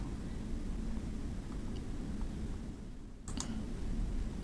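A single sharp computer mouse click lands near the end, close and brief, over a steady background hiss while a browser extension is being added in Chrome.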